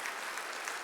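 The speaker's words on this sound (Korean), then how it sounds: "박수 한번 해주시기 바라고" A Sunday worship congregation in a church applauds welcomed guests, a soft, even wash of many hands clapping, distant and brief.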